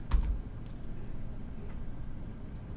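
Short burst of typing on a computer keyboard, a few quick soft key clicks at the start and then a faint low background hum, quiet and close.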